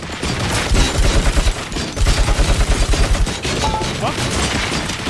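Loud rapid gunfire in the RoboCop video game, steady automatic bursts in close rhythmic pulses with brief pauses, layered over dense battle noise.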